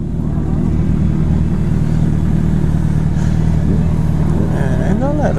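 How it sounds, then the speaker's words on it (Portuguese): A motorcycle runs outdoors in Cabo Frio, Brazil, with a steady engine drone and a rising rev near the end, close by and loud under people chatting. "É, galera, tem moto aqui."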